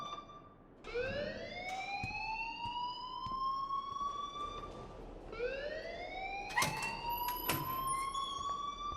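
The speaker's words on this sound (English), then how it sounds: "please turn off that alarm since that's your job" Fire alarm ringing inside Blackwell Academy in Life is Strange: two rising electronic wails sweep upward one after another, loud and steady, with sharp clanging hits near the end and no voices.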